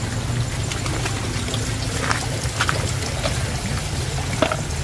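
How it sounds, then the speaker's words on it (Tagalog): Water from a natural spring trickles and pours steadily nearby, a continuous liquid babble with occasional small splashes and gurgles rising above the flow. "Ito po yung tinatawag na bukal dito sa amin."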